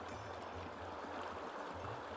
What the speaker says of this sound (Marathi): स्वतःवरती आपट्टी आहे, दगडांवरती आपट्टी, आणि त्याचा आवाज येतो आहे